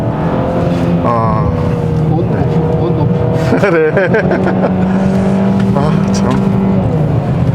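A 2021 Hyundai Sonata N Line's engine revs and whines through corners on a winding road test drive, its pitch rising and falling continuously under someone speaking in the cabin.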